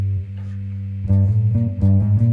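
Electric guitar with effects playing the Phrygian mode as a scale, a run of clear sustained notes stepping along over a held low root, close and moderately loud with no talking.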